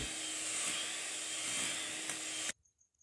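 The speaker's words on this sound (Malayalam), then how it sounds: "ഇനി ഇതിലേക്ക് നമുക്ക് രണ്ട് ടേബിൾ സ്പൂൺ സൺഫ്ലവർ ഓയിൽ ഒഴിച്ച് ജസ്റ്റ് ഒന്ന് ബീറ്റ് ചെയ്തെടുക്കാം" Egg and sugar batter with a little sunflower oil whipped by an electric hand mixer, a steady loud whirring drone that stops abruptly near the end and leaves near silence.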